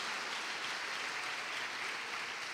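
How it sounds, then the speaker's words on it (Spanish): A church congregation claps steadily during a worship service, dense and continuous applause filling the space with no voices above it. "Damos fuertes ofrendas de palmas a nuestro Dios, hermanos."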